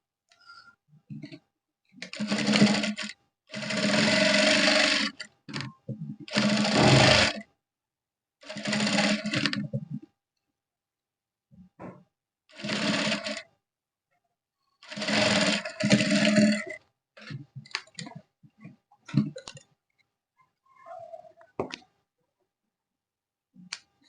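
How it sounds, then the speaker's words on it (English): Domestic sewing machine top stitching a trouser zip fly; several separate whirring runs of a few seconds each, broken by pauses and small clicks of fabric handling, close and clear, no talk. "Push the seam allowance on the flyer and top stitch."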